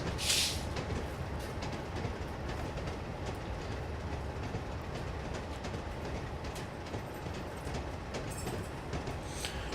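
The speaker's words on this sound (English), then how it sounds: "That's a long train" A long train led by a Class 47 locomotive passes on the East Coast Main Line in a train simulator, with continuous loud rumbling and a repeated clickety-clack of wheels over rail joints.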